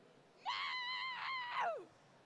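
A voice actor performs a character's scream during a live comic convention stage panel, one sustained high-pitched wail of about a second and a half, with a falling tail.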